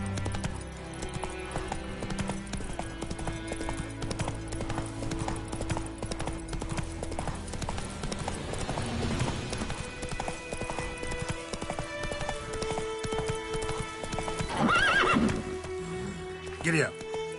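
Horse hooves clip-clop at a gallop in the Witcher 3 game world, a steady rhythmic drumming with a loud whinny near the end, over game music and a spoken voice.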